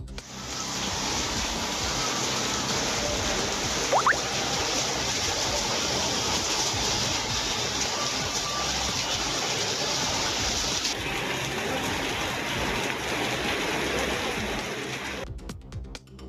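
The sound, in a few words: heavy rain with strong wind in Rameswaram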